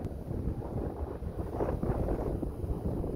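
Wind buffets a nearby microphone in downtown Singapore in low, rumbling gusts that rise and fall steadily for a few seconds, with no voices.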